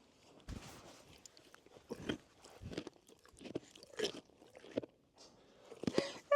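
A foal crunches food held up close, with bursts of biting and chewing in an irregular rhythm, fairly loud and near, while a person's soft murmurs are heard faintly in the background.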